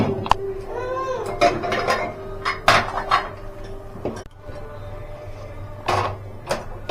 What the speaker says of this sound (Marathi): गॅसवर कुकर ठेवलंय